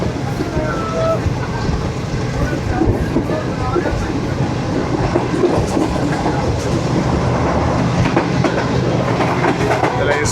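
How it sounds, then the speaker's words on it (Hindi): New Shalimar Express train running from Lahore to Multan, a loud, constant rumble of rolling wheels and rattling carriages close by, with voices heard faintly over the noise. "स्पीड पकड़ लिया ट्रेन ने।"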